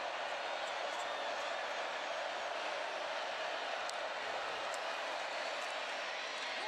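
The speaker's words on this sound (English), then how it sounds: "the crowd fully engaged here at Saban Field" A huge stadium crowd at Saban Field roars steadily through an Alabama college football game against South Carolina, a dense, continuous wash of cheering with a commentator talking over it.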